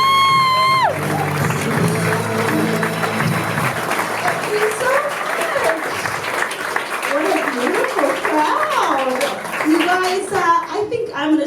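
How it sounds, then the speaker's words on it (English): Comedy club audience bursts into loud applause and cheering as a comedian takes the stage, dense clapping with whoops, shouted voices and a brief tone at the start, sustained throughout and fading near the end. "please give a round of applause for Molly Ruben-Long, everybody."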